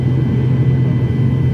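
Inside a passenger airliner halted on the runway before takeoff on a Kannur to Mumbai flight, a loud, steady low engine hum drones without change for the whole moment, with no voices.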